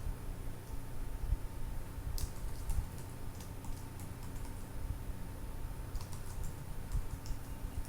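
Keyboard keys tapped in short bursts to enter a long password at a computer, with scattered light clicks over a steady low hum and no talking.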